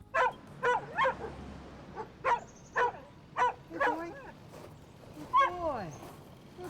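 A chained dog in a rural setting barks in a series of sharp, evenly spaced yips and woofs, fairly close, ending with a drawn-out whine.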